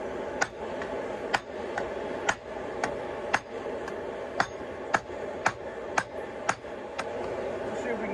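A hammer of just over 2.5 pounds strikes a scrap 5/8-inch square bar being forged into a mini London pattern anvil, ringing sharp metallic blows about twice a second, evenly spaced over a low background hum.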